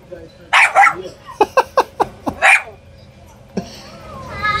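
A small, short dog barks for a ball, letting out a quick run of sharp, loud yaps in a rhythmic burst before a pause and a final bark, with faint background noise.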